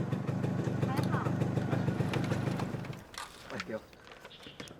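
A motorcycle engine idles with a steady low rumble for a few seconds, then cuts off, followed by a brief voice.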